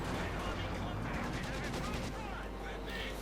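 Machine gun and mortar fire from a Company of Heroes 2 battle rumble as a dense, continuous wash of distant shots and booms, with a voice faintly present beneath the combat.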